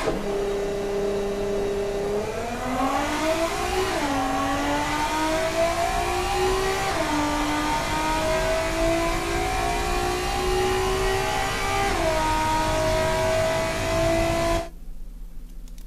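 A Ferrari Dino 246 engine in the Automation car-building game accelerates hard through a quarter-mile run, its steady rising whine climbing through four gear shifts before cutting off abruptly near the end, loud and alone.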